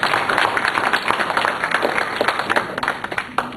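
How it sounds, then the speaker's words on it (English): A round of applause from an audience at a youth-in-politics straw poll event hosted by a college group, dense sustained clapping from a crowd with no talk over it. "So if we could give a round of applause to the RCYDs."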